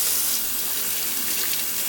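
Running water from a tap pours steadily over soapy hands as liquid soap is rinsed off, a continuous close splashing hiss with no talk.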